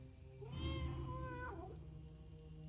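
A cat meows once inside the dark puzzle-adventure game Tormentum: a single drawn-out, wavering cry that rises and then falls, sitting clear and fairly close over a low, steady background drone.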